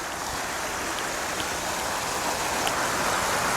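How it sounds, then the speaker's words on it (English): A creek flows through the wooded grounds of a Tennessee plantation, giving a steady, even wash of running water without pause or voices. "And they got a creek going through the property here."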